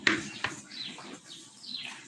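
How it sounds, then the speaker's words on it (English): Birds singing outdoors in the rain, a few short chirps and whistled calls scattered over two seconds, moderately near and fairly faint against a soft background hiss. "Can you guys hear the birds singing?"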